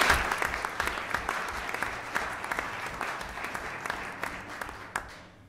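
A small group at a Webster Board of Selectmen meeting applauds, scattered individual claps crackling over a soft patter, fairly close in a modest room, then cutting off abruptly at the end.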